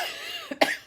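A person lets out a single sharp cough, close and fairly loud, with a brief rough burst and a short breathy tail.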